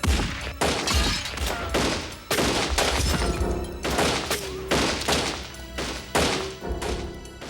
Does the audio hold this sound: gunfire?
yes